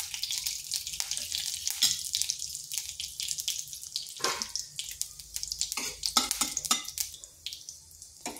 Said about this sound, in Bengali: এখানে কড়াই বসিয়েছি, দিয়ে দিচ্ছি তেল। দিচ্ছি মৌরি আর দিয়ে দিচ্ছি কালো জিরা।